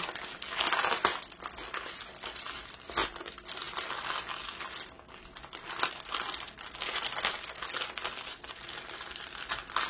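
A thick plastic outer bag from a diamond painting kit is handled and crinkled up close, giving continuous loud crackling and rustling with sharper crunches throughout.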